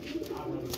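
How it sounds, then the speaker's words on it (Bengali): Sirazi pigeon, a hen sitting on eggs, gives a soft, low continuous coo, close and fairly quiet, with no talking over it. "এটা সিরাজি কবুতর"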